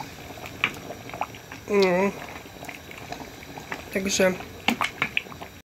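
Sauce for Breton-style beans bubbles in a pot, a continuous close simmer with scattered pops and gurgles, while a person speaks briefly twice over it.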